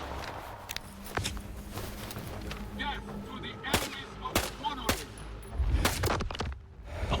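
Gunfire in S.T.A.L.K.E.R. 2: Heart of Chornobyl, a run of sharp, loud shots spread across the stretch with a cluster near the end, over game ambience and footsteps.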